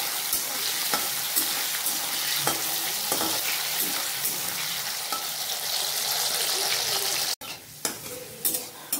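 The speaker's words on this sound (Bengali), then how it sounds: "এবার আলুগুলোকে ভেজে নেব।" Potatoes frying in a pan, a steady close sizzle with repeated scraping strokes as they are stirred, then a brief break before the sizzling resumes.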